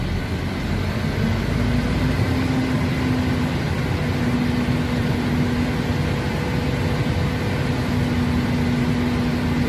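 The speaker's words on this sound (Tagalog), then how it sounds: "Malakas yung makina." A MAN TGA truck diesel engine held at a steady 1,200 RPM, a constant low droning hum with a faint whine running under it and no talking.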